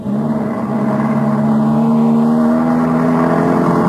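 Radio-drama sound effect of a taxi pulling away fast: a sustained engine drone that climbs steadily in pitch as it accelerates, loud and close, with no voices over it.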